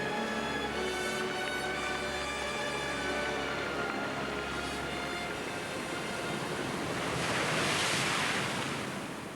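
Sea surf rolling in over sand and stones beneath a cliff, a steady broadband wash of waves with low rumbling undertone, swelling louder toward the end with no voices.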